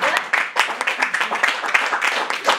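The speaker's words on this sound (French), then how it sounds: "Applaudissez le poète." A poetry slam audience applauds and cheers a poet, a lively, uneven burst of clapping with scattered voices mixed in.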